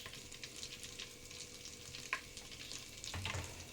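Mint, curry leaves and ginger garlic paste frying in a pan, a quiet steady sizzle with a couple of brief spatula scrapes, louder toward the end.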